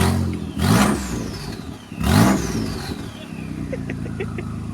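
A MK2 Golf carrying a swapped-in Audi engine cranks and fires, then revs twice in sharp rising bursts that fall away each time before it settles into a steady close idle.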